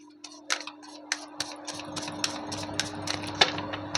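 A deck of cards being shuffled during a tarot-style reading, giving a quick run of crisp riffling ticks and soft slaps, close and fairly quiet, with no talking.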